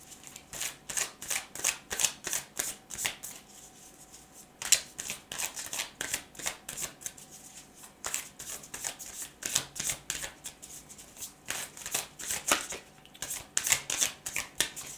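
Tarot cards are shuffled by hand in rapid riffling bursts, each a quick flurry of crisp papery flicks with short pauses between, repeating steadily at close range with no talking.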